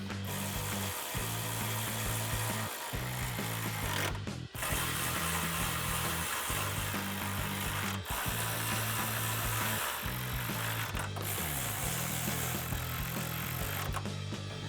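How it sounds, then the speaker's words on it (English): A 10 mm socket ratchet tightens grille guard bolts on a 2019-2021 Chevrolet Silverado 1500, giving a steady, close run of pawl clicks in bursts with brief pauses between strokes. "take a 10 millimeter socket and tighten all of these down"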